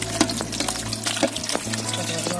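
Watermelon juice strained to remove the seeds, a soft continuous trickle and pour of liquid with light splashes, fairly quiet and close, with no one talking.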